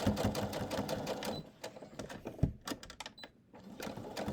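A sewing machine stitches fused batik fabric shreds in short, close bursts of rapid mechanical chatter, separated by pauses and handling sounds.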